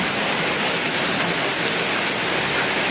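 Floodwater rushes during rain, a loud, dense, unbroken roar of water that fills the whole short stretch at close range without any voices.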